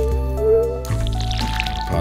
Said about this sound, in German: So, einmal muss man das natürlich noch selber gießen.